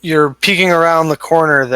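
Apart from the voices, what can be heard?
None of the usual background noises is heard.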